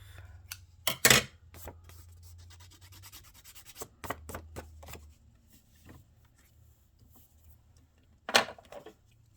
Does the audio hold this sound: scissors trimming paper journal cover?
yes